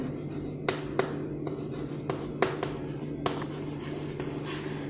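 A pen scratches across paper while a ray diagram is drawn, a close, continuous scratchy rustle with several sharp taps and strokes spaced irregularly.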